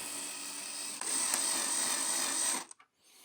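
A cordless drill driver with its clutch set low whirs steadily with a high motor whine for nearly three seconds, driving screws while assembling a Yixiang V2 DIY battery kit, then cuts off abruptly into quiet.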